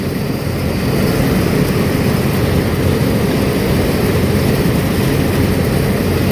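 A large tractor works a rice field at harvest, its engine giving a loud, steady, close drone that barely changes for the whole stretch, with no voices.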